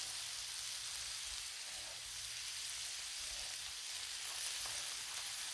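Sloppy joe mix with Rotel diced tomatoes and green chilies sizzles steadily on a Blackstone griddle, a constant broadband crackle and hiss with a low hum underneath, no voices.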